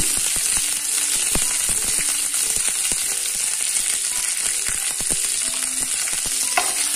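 Loud, constant oil sizzling and crackling with rapid popping, as curry leaves fry vigorously in a hot pan after tempering seeds; no voices.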